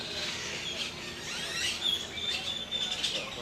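Parrots give faint, scattered high chirps and squeaks a short distance away over a quiet background.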